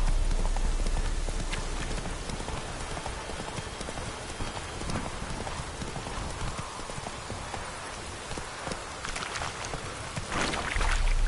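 Horse galloping in a PS4 video game, a continuous rapid clatter of hooves over a dense background of game sound, steady and loud throughout.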